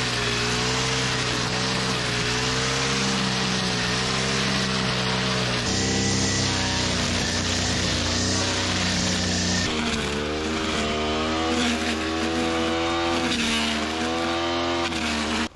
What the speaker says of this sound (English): Right, going strimming. Got a few areas that need tidying up.